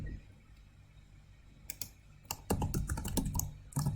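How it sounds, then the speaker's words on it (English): Typing on a computer keyboard while working in RStudio, with a few isolated key clicks and then a dense burst of rapid keystrokes, close and clear, with no talking. "I just type credit"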